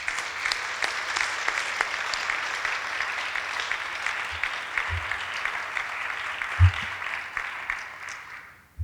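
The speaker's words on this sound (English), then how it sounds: "Let's give a round of applause for all the recipients of this award." An audience applauds award recipients at the 2021 President's Award for Excellence ceremony, with steady, dense clapping that holds for about eight seconds, a few sharper claps standing out, before it tapers away at the end.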